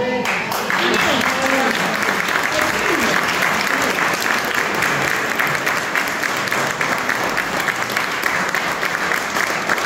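An audience at a choral show applauds a trio of singers, a loud, sustained wash of clapping that lasts throughout, with a voice talking briefly near the start.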